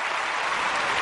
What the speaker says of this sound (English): you can clap for Saint Elsewhere.